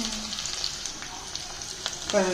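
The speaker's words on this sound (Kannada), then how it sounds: "ಬೆಳ್ಳುಳ್ಳಿ ಸೀದಷ್ಟು ಚೆನ್ನಾಗಿರುತ್ತೆ ಒಗ್ಗರಣೆ" Mustard seeds, garlic and onion sizzle in hot oil as a tempering for jackfruit sambar, a low steady crackle with faint stirring, and a brief voice rises near the end.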